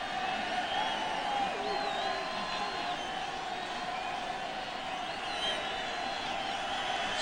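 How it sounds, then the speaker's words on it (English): Baseball crowd at a Cardinals game against the Astros, a large stadium roar of cheering and scattered whoops building and holding steady, with an announcer talking over it. "and the crowd comes alive."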